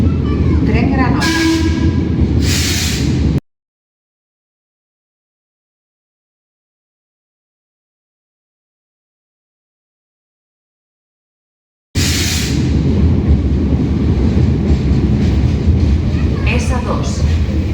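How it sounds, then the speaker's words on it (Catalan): A historic FGC Granota train on the Metro del Vallès S2 line at Sabadell Parc del Nord station, platform 1, gives a steady rumbling roar with some voices, cut by a long silent gap before the loud running noise returns. "Tren Granota."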